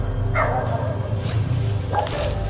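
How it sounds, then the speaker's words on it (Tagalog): A dog barks twice, about a second and a half apart, over a steady low hum and background noise, with no one talking. "Narinig nyo naman yung aso."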